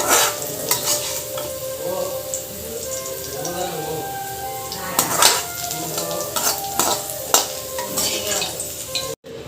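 Bottle gourd pieces frying in oil for chutney, stirred in a pan with a spoon, giving a continuous sizzle with clinks and scrapes of utensil on metal, close by, with a voice speaking over it at moments.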